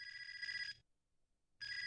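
A telephone bell ringing in an office, two loud electronic trilling bursts separated by a short silent gap, close and alone with no talk.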